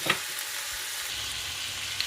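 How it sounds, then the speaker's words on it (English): Prawns simmer in a covered pan, a soft continuous sizzle and bubbling hiss with a faint clink near the start and end, quiet and steady. "I'm going to put the lid on and leave that to simmer for like 5 minutes"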